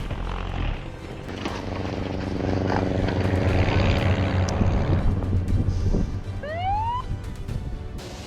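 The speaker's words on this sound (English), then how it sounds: "The powerful jet blast from the aircraft shook the entire area behind it" Powerful jet blast from an aircraft on an airport runway, a loud sustained roar that swells and holds for several seconds, with a rising whistle-like tone near the end.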